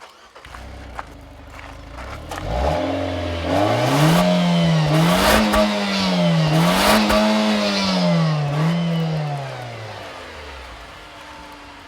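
A 2013 Nissan Juke Nismo with a CVT accelerating hard in a 0-60 mph run, its engine note rising and settling into a droning, wavering whine that lasts about ten seconds and fades at the end, with no talk over it.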